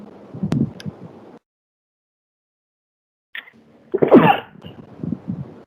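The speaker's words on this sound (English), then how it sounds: "Also, I sneeze." A single person's sneeze, a sharp close burst followed by breathy, throaty after-sounds and quieter vocal noise after a short silence.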